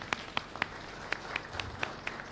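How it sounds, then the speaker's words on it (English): Sparse, scattered claps ring out at a panel discussion on substandard and falsified medical products, a few distinct hand claps spaced apart and fairly faint against room noise. "Let's give him a round of applause."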